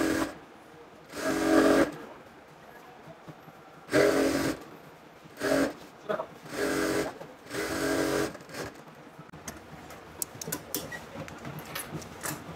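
An electric sewing machine runs a double seam on ladies' palazzo pants in repeated bursts of a second or so, with pauses and light handling clatter between runs and lighter stitching toward the end.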